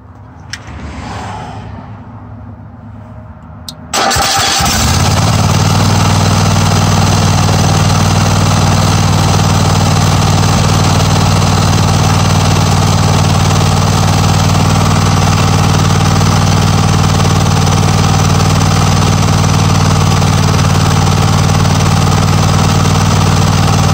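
A Kohler small engine with smart choke cranks after a few quiet seconds, catches abruptly and settles into a loud, steady, close idle that drones on without a break.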